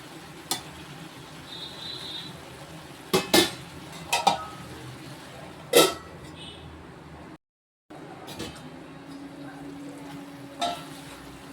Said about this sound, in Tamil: எல்லாம் சேர்ந்து நல்லா வதங்கி வரட்டும்